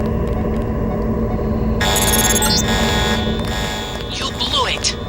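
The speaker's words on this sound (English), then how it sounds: "The alarm just closed the north door." An alarm goes off in the stealth video game Deus Ex, a steady electronic buzzing tone over game sounds, with a brighter burst of noise partway through.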